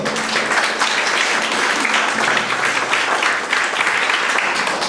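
Strong, sustained applause from a church congregation fills the whole stretch, dense and steady with no speech over it.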